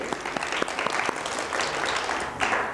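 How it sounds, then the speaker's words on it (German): An audience at a lecture on healing claps together in steady, moderately loud applause, with individual claps standing out from the crowd. "I think this Love-Ton deserves an applause."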